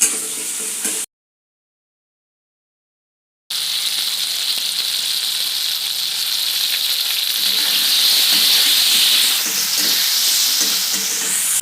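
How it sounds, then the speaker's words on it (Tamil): Eggplant and potatoes sautéing in oil in a pan, a loud, continuous sizzle and hiss close by, interrupted by a few seconds of silence and then resuming steadily without any talk. "நல்லா எண்ணெயிலேயே வதங்கட்டும்"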